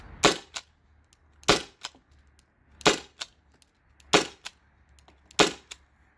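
A Byrna SD launcher upgraded with a 12-gram CO2 cartridge and a Kmotor performance part fires five sharp, evenly spaced shots, each followed by a fainter mechanical click, with quiet gaps between them.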